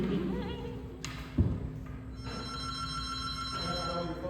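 A telephone ringing on a theatre stage, bright repeated electronic rings starting partway through and continuing steadily, with faint stage noise and a soft thump beforehand.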